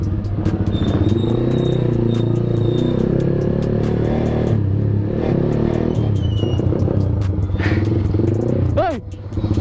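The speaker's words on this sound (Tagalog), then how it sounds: "Hindi ako masyado nagsasalita para marinig nyo yung pipe, no?" A Kawasaki Z200 motorcycle fitted with an SC Project exhaust pipe rumbles loudly and steadily while riding, with shifting revs and a brief throttle change near the end; no one speaks.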